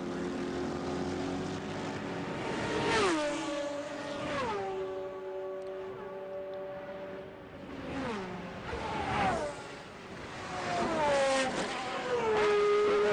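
Race cars at the 1999 Le Mans 24 Hours accelerating back up to speed as racing resumes, several loud engines rising and dropping through gear changes as they pass one after another, with no talk.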